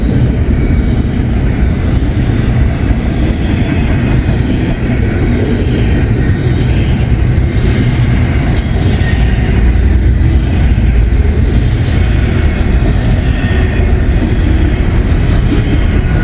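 A freight train rolls steadily past with a YN2-painted locomotive leading, a loud, continuous rumble of wheels and cars close by, with faint rail squeal and clatter running throughout and no voices.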